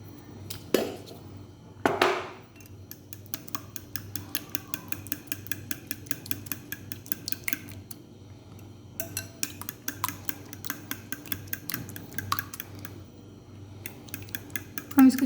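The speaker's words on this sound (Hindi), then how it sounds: "हम इसको अच्छी तरह मिक्स कर रहे हैं।" A utensil whisks egg with black pepper and salt in a bowl. The quick, regular metallic clinks against the bowl go on for several seconds, with short pauses in between. They are close and moderately loud, and a faint voice can be heard at times.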